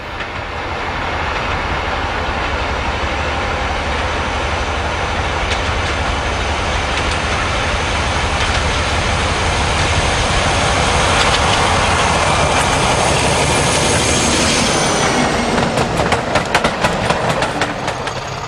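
Diesel locomotive 46010 on the Llangollen Railway passes close with a loud, steady engine roar and rumble, ending in a quick run of rhythmic wheel clicks over rail joints.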